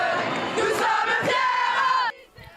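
Protesting crowd at a demonstration in Belgium shouting together in a loud, sustained roar of voices that cuts off abruptly near the end, leaving a brief quieter tail.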